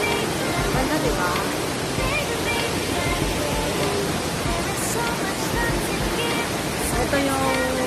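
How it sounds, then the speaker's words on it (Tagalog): Shifen Waterfall in Taiwan, a loud, constant roaring wash of falling water with people talking and crowd voices layered over it. "Ito yung waterfalls ng Taiwan."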